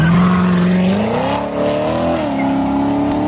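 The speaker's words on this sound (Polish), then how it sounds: "Jedyne, co mi się tutaj podobało, to wydech tego auta." A car exhaust revs up loudly and close, the engine note climbing and then holding a raspy, rising drone with a brief dip midway.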